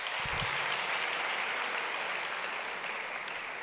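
Audience applause after a speech at a business and professional organization event, a dense steady wash of clapping lasting throughout, fairly loud with no talk over it.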